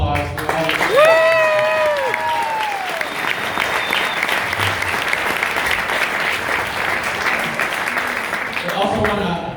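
An audience breaks into sustained, dense applause for a speaker's family members, including a grandmother and mothers, with a few whistles near the start and voices rising briefly at the end.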